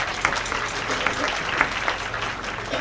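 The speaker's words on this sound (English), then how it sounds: "Can we give her another round of applause" An audience at a Purple Light Nights lighting ceremony for domestic violence awareness claps in a steady, moderately loud patter with a few sharper individual claps, continuous throughout without any voice over it.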